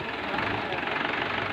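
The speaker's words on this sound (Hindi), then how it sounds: "तभी आपने देखा किस तरीके से हमारा ट्रैक्टर ओके स्टार्ट हुआ।" A tractor engine runs after starting on a single key turn, a close, steady low rumble of idling with a voice speaking over it.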